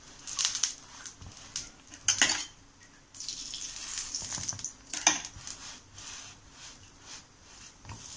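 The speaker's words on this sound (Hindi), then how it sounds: "इसी तरीके से हम बाकी के भी पाव, बाकी के भी बन को हम सेक कर ले लेंगे" Burger buns toasting in a pan for aloo tikki burgers, with soft crackling sizzle, scraping and clinking of a utensil against the pan, a few louder clatters breaking a steady background hiss.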